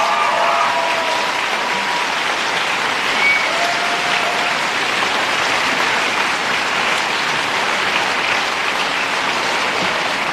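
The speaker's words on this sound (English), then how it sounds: "Give yourselves a round of applause." Sustained crowd applause fills a volunteer rally for a political campaign in Melbourne, a dense, even wash of clapping that runs loud and unbroken from start to finish.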